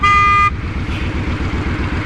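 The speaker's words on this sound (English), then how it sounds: "Let's see what the horn sounds like on this thing." A 2010 Honda Fury chopper motorcycle sounds its horn in one loud, steady half-second toot, followed by the bike's idling engine rumbling close by.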